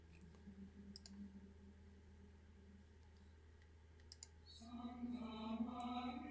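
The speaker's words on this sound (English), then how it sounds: "I'm going to click box point, and I'm going to click this top edge" Computer mouse clicks selecting edges in CAD software, a few faint sharp clicks spaced apart over a quiet room hum, with a louder tonal machine-like sound rising near the end.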